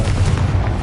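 Confringo fire-blast spell cast in the Hogwarts Legacy game: a dense, rumbling booming burst that fills the whole moment, loud and close, with no talk over it.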